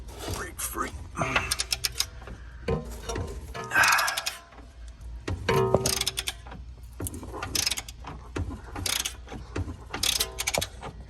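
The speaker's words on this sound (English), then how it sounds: "Stick your 18 mil wrench back here. Your ratchet in the front." Ratchet and 18 mm wrench loosening a front control arm nut on a BMW 535i: bursts of clicking ratchet strokes and metallic clanks, close, with occasional talk in between.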